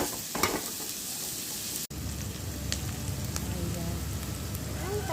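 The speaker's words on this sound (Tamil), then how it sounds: "கருவேப்பிலை, வெங்காயம், வெங்காயம் நல்லா வதக்கிடணும்." Chopped onions with curry leaves and cumin sauté in a pan for a poori potato masala, giving a steady, close frying hiss that runs throughout with a brief dropout partway through.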